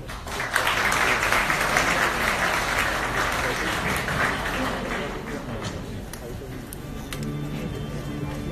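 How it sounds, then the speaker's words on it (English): Audience applause at a diamond fashion show launch, a sustained loud wash of clapping that fades slightly toward the end, with a voice speaking over it. "please applaud every single woman that you see today"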